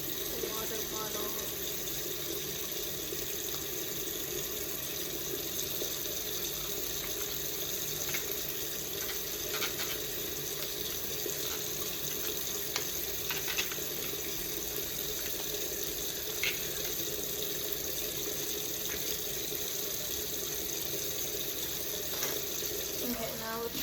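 Kitchen tap water runs steadily into a sink while a water bottle and its lid are rinsed and scrubbed, a continuous splashing hiss with small clinks and knocks throughout.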